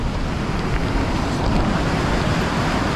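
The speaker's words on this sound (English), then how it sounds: "Look at the water pouring out of this lock." Water pouring out of a canal lock on a freezing winter day, a loud, steady broadband rush that carries on without a break, mixed with wind buffeting the microphone.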